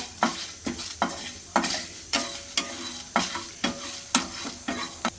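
Dried red chillies roast in a pan, with a brisk, regular rhythm of about a dozen scraping stir strokes over a light sizzle.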